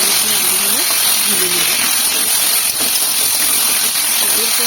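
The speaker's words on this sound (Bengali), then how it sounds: "সেই তেলের মধ্যে কেটে রাখা আলু এখানে মিডিয়াম সাইজের দুটো আলু নিয়েছি আমি আলুগুলো ভেজে নেব" Cut potatoes, two medium-sized ones, sizzle in hot oil for a Bengali fish curry, giving a steady loud hiss and crackle that runs unbroken throughout, with a voice speaking over it.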